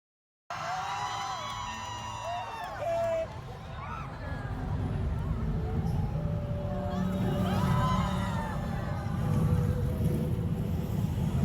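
Steady roar of a large crowd at a FanFest trailer showing, cheering and whooping continuously under the trailer's music and sound effects, swelling slightly as it goes on.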